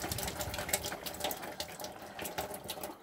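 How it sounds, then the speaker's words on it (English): Hot water runs steadily from the open hot-side taps of a 2011 Bailey Pegasus 554 caravan, a close, continuous hissing gush with slight sputtering as air clears the pipes, with no one speaking. "Open all the taps up on the hot side."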